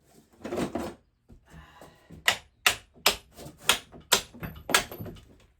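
A run of sharp metallic hammer impacts on a shredder, about six strikes spaced roughly half a second apart, after some quieter handling noises at the start.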